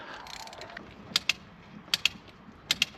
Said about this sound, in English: So we can keep tightening that up until it gets tight.